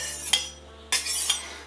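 A knife blade is drawn across a whetstone in two brief, close scraping strokes with a short pause between them.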